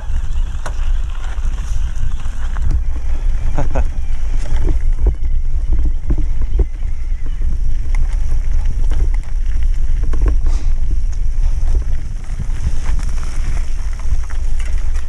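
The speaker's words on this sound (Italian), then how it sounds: "Accendi il motore però, se no tutte le volte." A boat on open water near Porcili Marriu, Capoterra, with a steady low rumble that fits a running motor under wind buffeting the microphone and occasional splashes throughout.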